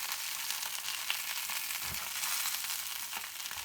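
Sausages browning in a frying pan for a sausage casserole give a steady, close sizzle and crackle of hot fat that runs unbroken throughout, with no talking.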